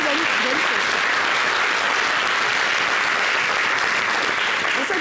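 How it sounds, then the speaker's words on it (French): An audience at a television show bursts into dense, continuous applause, loud and close, with crowd noise and voices mixed into the clapping throughout. "Applaudissez plus."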